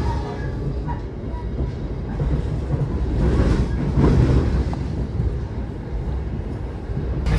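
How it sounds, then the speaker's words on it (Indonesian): An Argo Cheribon train on the Jakarta–Cirebon line at about 110 to 115 km/h, a loud steady roar of wheels on rails heard from inside the car, with wind rush swelling and fading slightly throughout. "Kereta api Argo Cirebon sedang berada di puncak Maksudnya teman-teman, di kecepatan tinggi sekitar 110 sampai 115 km per jam."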